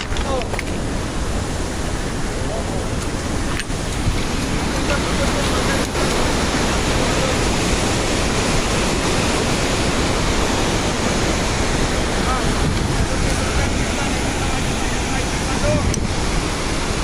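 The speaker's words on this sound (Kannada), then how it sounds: "ಅತ್ಯಂತ ಶುದ್ಧ ನೀರು ಪಶ್ಚಿಮ ಘಟ್ಟಗಳಲ್ಲಿ ಹರಿದು ಬರಿತಕ್ಕಂಥ ಈ ಒಂದು ಜಲಪಾತ" Dudhsagar waterfall in a Goa forest in the Western Ghats roars as a constant, loud, dense rush of falling water that fills the whole span without letup.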